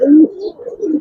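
A pair of old-line Bagha pigeons coo close by, with one strong, rolling coo followed by a softer, wavering continuation.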